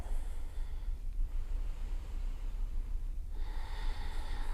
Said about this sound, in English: Close your eyes. Deepen your breath.